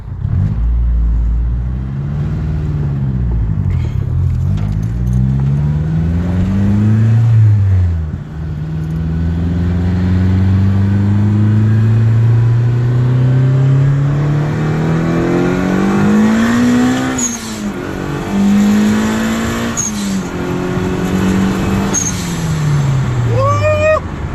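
A turbocharged Honda EM1 engine revs and accelerates repeatedly on a freeway, its pitch climbing and dropping through several gear changes, loud and close.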